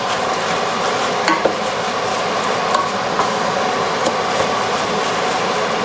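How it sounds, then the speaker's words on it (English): Rice with black beans stirred in a hot pot on high heat, a steady loud sizzling rush with faint scraping ticks of the spoon scattered through it. "we're going to mix up the rice with the black beans"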